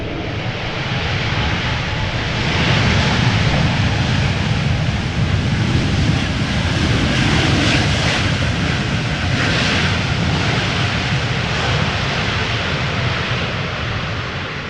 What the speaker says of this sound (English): A321neo using the reverse thrust there.